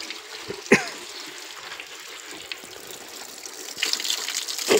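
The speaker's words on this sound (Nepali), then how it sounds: "पानीको धारा यो देख्नुहुन्छ यहाँनिर है।" Water pours from a spring spout outdoors, a continuous close splashing gush with a sharp knock early and the flow swelling louder near the end.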